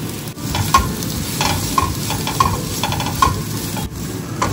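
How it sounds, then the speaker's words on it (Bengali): Ground cumin and coriander spice mix sizzles and fries steadily in a pan for fish, with a continuous close crackle and occasional scraping stirs, no voices. "হালকা কিছুক্ষণ ভেজে নিলাম,"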